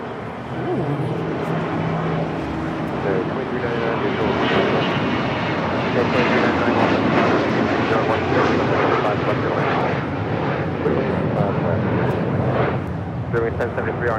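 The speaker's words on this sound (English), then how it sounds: "It's a Global Express. Heading on out." Global Express business jet taking off from LAX, a loud, steady broadband engine roar that swells and holds throughout, with voices talking over it.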